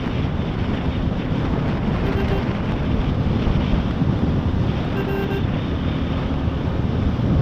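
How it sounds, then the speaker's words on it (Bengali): Steady, loud wind rushing and buffeting against the microphone during a solo motorbike ride from Kolkata toward Mandarmani, a continuous roar with no break or speech. "এখন বেশ ভালোই হাওয়া দিচ্ছে"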